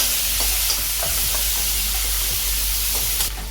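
Asafoetida and ginger-garlic paste sizzle in hot oil with curry leaves, a steady close hiss broken by soft, scattered stirring taps, no voices.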